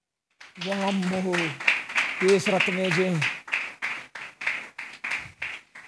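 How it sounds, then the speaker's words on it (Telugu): Rhythmic hand clapping from an audience at a Christmas gathering, someone speaking over the first half before the claps continue on their own as a steady, fairly close beat. "చప్పట్లు కొట్టరా"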